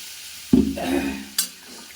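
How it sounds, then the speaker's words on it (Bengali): Water poured into a pan of fried spices, with onion and chilli, bursts into a loud sizzle and stirring. A second, shorter hiss and clatter follows near the end. "মশলা ভাজা হয়ে গেছে জল দিয়ে দিচ্ছি পরিমাণ মতো"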